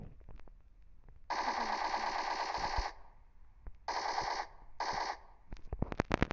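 Bursts of automatic gunfire in PUBG Mobile Lite: a long rattling volley, then two shorter ones, with scattered single shots before and a quick flurry of close shots at the end.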